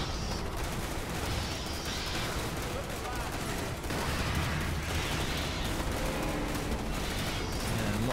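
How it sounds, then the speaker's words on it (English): Sustained barrage of shotgun fire from squads battling bugs in the Starship Troopers: Terran Command strategy game, a dense continuous wall of overlapping blasts with voices mixed beneath the roar. "Shotgun barrage on."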